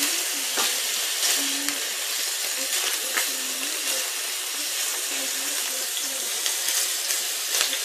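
Aubergines fry in hot oil in a pan, a loud continuous hiss and crackle with occasional scraping stir strokes and small pops, close up and with no talking.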